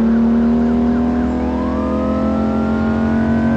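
Police car siren in the video game Grand Criminal Online: a loud, steady wailing tone that glides upward partway through, layered over a continuous engine hum with no voices.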